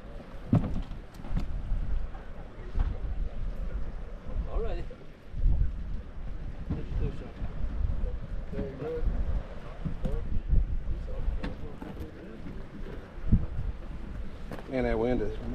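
Strong wind buffets the microphone on a lake during a catfish tournament, a steady broadband roar with gusts throughout, while people talk over it nearby.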